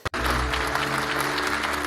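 Steady, dense applause from a large crowd, sustained throughout after a brief thump at the start.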